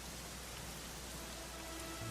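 Steady rain falls in Dragon Quest XI, a dense, even patter on hard surfaces that lasts throughout without pause or voices.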